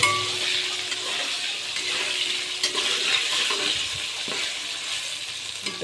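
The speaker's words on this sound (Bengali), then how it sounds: "আলুটাকে এবার তেলের মধ্যে দিয়ে দিচ্ছে, আস্তে আস্তে ধীরে ধীরে ছেড়ে দিচ্ছে।" Potato pieces frying in hot oil and being stirred, giving a steady broadband sizzle with faint scrapes, close and continuous with no voices.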